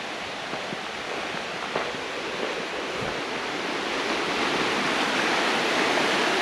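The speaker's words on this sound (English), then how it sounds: "There's a serious bit of the river here." River water rushes and roars steadily beside a bridge near Milton of Balgonie, a dense broadband wash that grows slightly louder over the few seconds, with no voices.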